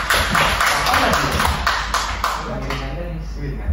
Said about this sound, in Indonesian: Kita beri tepuk tangan untuk Krisna.